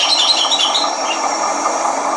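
A locomotive's brakes squeal as it slows during shunting. The screech is high, steady and metallic, with wavering tones above a low rolling rumble that stays at an even level throughout, and no one speaks.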